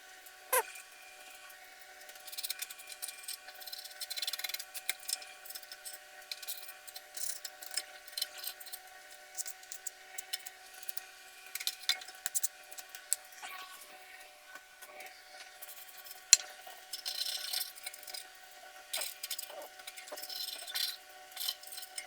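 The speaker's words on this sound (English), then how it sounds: "we're just going to scrape off some of this stuff, and then we can pull out the seal" Debris is scraped off the rear wheel bearing seal of a 2005-2014 Ford Mustang, giving faint, irregular scratches and small clicks over a quiet background, with no talking.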